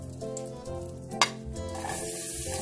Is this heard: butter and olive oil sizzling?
yes